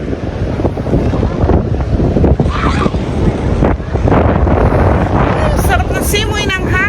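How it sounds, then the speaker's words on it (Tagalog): Strong wind buffets the microphone at a beach in Calatagan, Batangas, a loud roaring rush that gusts unevenly throughout, with surf in the background and voices talking over it. "Ang lakas ng hangin, mga kabeshi."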